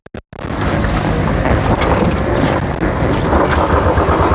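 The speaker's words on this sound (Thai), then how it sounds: "เดี๋ยวเรามาลองว่า การสตาร์ทเท้าของรุ่นนี้มันจะสตาร์ทติดง่ายหรือเปล่านะ" A 2020 Royal Enfield Bullet Classic 500 single-cylinder motorcycle is kick-started: a couple of quick mechanical taps, then the engine catches at once and runs on loud and close with a heavy, steady thump.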